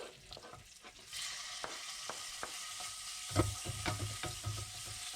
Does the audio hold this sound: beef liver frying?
yes